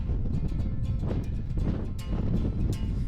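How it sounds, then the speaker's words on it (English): Strong wind buffets the microphone on an exposed hilltop trail at Roseberry Topping, a steady loud low roar with gusty surges throughout and no talk. "it is super windy today"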